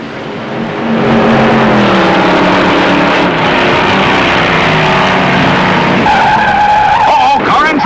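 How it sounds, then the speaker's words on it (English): A 1958 stock car skids and crashes into a guardrail, spinning off the high-banked first turn at the Southern 500, heard as sustained loud engine roar and tire skid with a harsher scraping burst near the end, amid distant crowd noise. "smashes a guardrail and spins off the high bank first turn"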